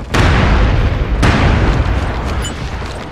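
Grenade blasts in the online shooter MAG during a base defense at Elk Bay, two loud booms in quick succession, the second landing about a second after the first, each followed by a dense rumbling tail.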